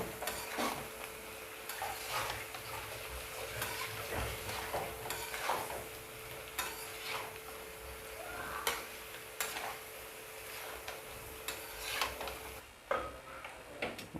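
Onions and green chillies are frying and being stirred in a pan for a goat blood dish, giving a faint steady sizzle with soft scraping and ticking utensil sounds at irregular intervals.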